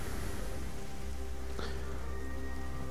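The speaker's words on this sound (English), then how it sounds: "Yeah, that's a whole lot of rain here." Rain falling in the video game Dig or Die, a dense continuous patter of drops on surfaces, loud and steady throughout, with a faint tonal game sound underneath.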